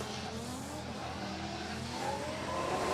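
A Toyota JZA80 Supra and a JZX100 Mark II sit at the line in a Formula Drift Japan battle at Okuibuki Motorpark, engines revving in rising and falling sweeps at a moderate distance over steady crowd and track noise.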